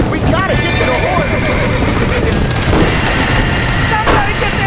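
Horses neigh and whinny in panic inside a burning barn in Red Dead Redemption, several shrill calls over a crackling, rumbling fire, with shouting voices mixed in.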